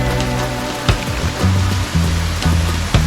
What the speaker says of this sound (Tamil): போகிற வழியிலேயே சின்னதாக ஒரு ஃபால் இருக்குது